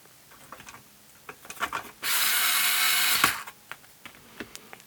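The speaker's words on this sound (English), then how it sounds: "I'm going to pop two of these screws back in" Screws driven back in with a power driver during a repair, with a steady whirring burst of about a second amid clicks and handling knocks, close and fairly quiet with no talking.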